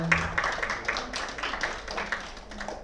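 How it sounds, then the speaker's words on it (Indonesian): A small group claps briefly during a micro-teaching session, a loose, uneven patter of hands with a few voices mixed in. "tepuk tangan buat semuanya"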